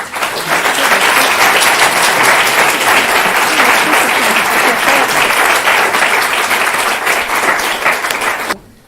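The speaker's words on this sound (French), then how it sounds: "je pense qu'on peut vraiment l'applaudir chaleureusement" An audience at a talk applauds warmly, dense sustained clapping held at a steady level for about eight and a half seconds before stopping abruptly, with no voices standing out.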